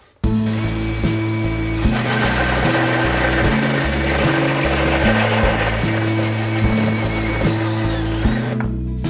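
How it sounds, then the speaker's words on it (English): A power drill with a pilot bit bores holes during a rustic DIY home remodel. The motor whines steadily and shifts speed in repeated steps for about nine seconds, with no talking. "And so once I get these holes started, then I'll take out my pilot hole and then I'll drill all the way through."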